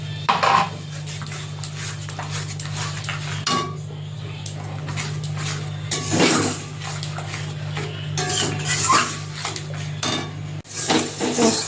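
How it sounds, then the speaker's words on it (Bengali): Poppy seed paste stirred and fried in a pan, with repeated clanks and scrapes of a utensil against the metal over a low steady hum, close and without speech. "পোস্তটা ভালো করে এই যে কষিয়ে নিচ্ছি,"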